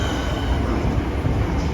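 A Thameslink train at London Bridge station gives off a loud, steady rumble with a high whine on top, heard up close and without voices.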